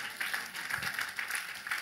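A church congregation claps in a quick, even rhythm. The claps sound soft and somewhat distant, blending into a continuous patter.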